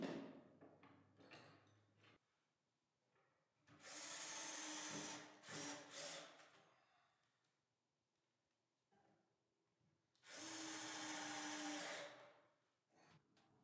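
Power drill driving screws into clamped cabinet panels in a workshop, two long whirring bursts with a few shorter revs between them, close and fairly loud.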